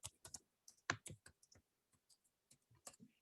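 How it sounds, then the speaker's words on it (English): Typing on a computer keyboard: a quiet, close series of irregular key clicks and taps with short pauses between bursts, no voices over them. "And I'm typing them in."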